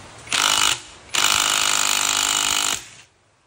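Pneumatic impact wrench set to its large setting, hammering off a motorcycle magneto in two loud bursts, a short one and then a longer rattling run, with no talk.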